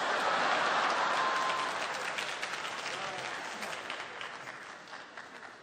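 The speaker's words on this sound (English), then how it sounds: "Latecomers applaud." Audience applause in a concert hall for latecomers at an evening show, loud broadband clapping that starts strong and slowly thins and fades.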